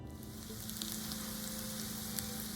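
Potatoes and onions sizzle steadily in a fry pan, a soft continuous crackle and hiss at low volume with no talking.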